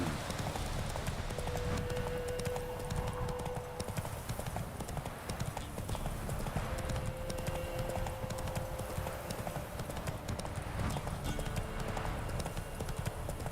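Steady clip-clop of horse hooves at a riding pace, a continuous rhythmic gait in The Witcher 3 game world with a faint tonal hum in the background and no talk.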